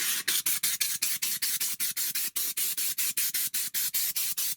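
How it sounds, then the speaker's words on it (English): Rapid, evenly spaced bursts of hissing spray from a spray bottle aimed at a car's interior floor, about five per second, continuing steadily and fairly close. "for the first spray, you spray at the floor because sometimes it's like too much water"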